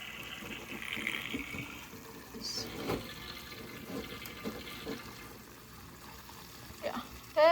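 Water siphoned out of a cichlid aquarium during a water change, heard as a quiet, continuous gurgling trickle with a few soft splashes and a louder slosh at the very end.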